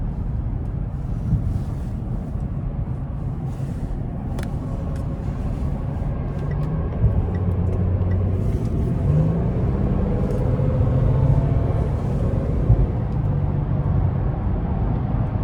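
A 2017 Range Rover HSE with a supercharged V6 pulls hard onto an interstate, heard from inside the cabin as a steady low engine and road rumble that builds slightly, with wind noise and no talking.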